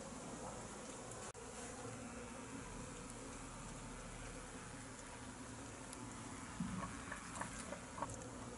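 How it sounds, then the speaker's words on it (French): Faint, continuous buzzing of many honeybees at a hive in winter, a soft steady drone with occasional louder passes close by. "vous voyez que les abeilles ramènent du pollen"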